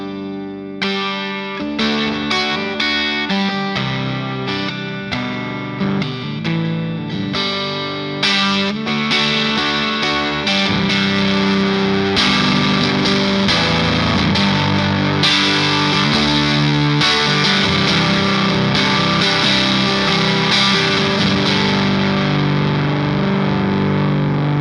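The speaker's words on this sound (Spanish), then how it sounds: "Esa es la típica cola de un fuzz bien apretado, bien caliente" Electric guitar driven through a Behringer Fuzz Bender fuzz pedal, tight and hot, with saturated sustaining chords and a thick, buzzing fuzz tone throughout, loud and alone with no talking.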